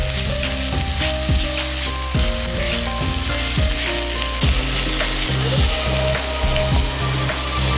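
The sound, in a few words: ash gourd being stirred and fried in a pan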